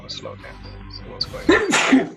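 A person sneezes sharply at close range near the end, right after someone speaks briefly.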